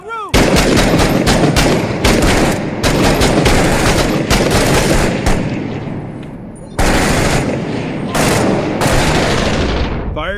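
Sustained gunfire in the combat shooter Six Days in Fallujah: loud, rapid automatic bursts from several weapons with short gaps between volleys, close and dominant, and brief voices beneath.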